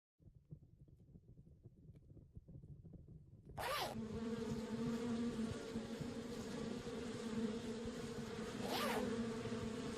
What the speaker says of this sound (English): The bees won't let me get close enough.